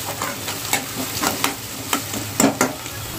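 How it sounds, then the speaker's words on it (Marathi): Onions sizzle in a hot pan for egg masala curry, a steady close crackle broken by several sharp scraping stirs of a spoon against the pan, with no one talking. "आपल्या इथे कांदा फ्राय होतोय"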